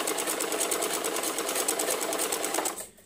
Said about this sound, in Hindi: ऐसे अंदर की तरफ मोड़ते हुए सिलाई करते जाएंगे।